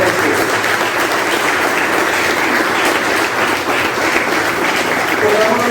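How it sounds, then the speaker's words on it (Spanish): A church congregation gives loud, vigorous applause for a person named Rey, a thick continuous wash of overlapping claps filling the room at steady volume from start to finish. "Démosle un fuerte aplauso a Rey que se lo merece."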